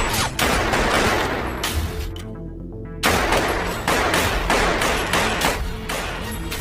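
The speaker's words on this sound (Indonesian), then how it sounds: "Kemudian, agen Tommy beradu tembakan, dengan Johnny yang muncul secara mendadak." Rapid bursts of gunfire in a film shootout crack out close and loud, with a short pause before more volleys of shots resume.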